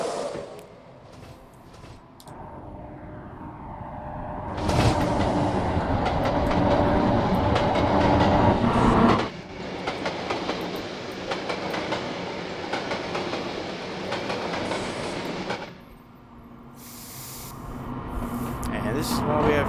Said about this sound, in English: this train, even though it was behind us a while ago, is now pulling into the platform